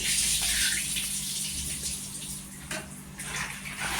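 A glass of water is poured into a pan of pav bhaji vegetables, a continuous close splashing gush lasting a few seconds with no talk.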